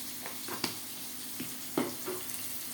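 Ground chili powder and spice mix frying in a pan for an elephant foot yam curry, a faint steady sizzle broken by a few soft clicks and stirring taps.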